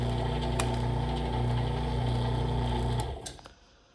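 Vevor 108-W electric wire stripper hums with a steady motor drone and tonal whine, close and fairly quiet, with a couple of faint clicks before it cuts off near the end, leaving silence.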